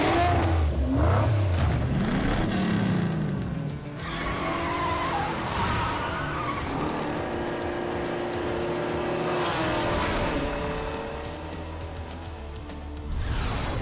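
Toy Hot Wheels car racing through Hot Wheels City, its engine revving hard with tire squeals and skids, loud and continuous for the whole stretch with surging acceleration bursts.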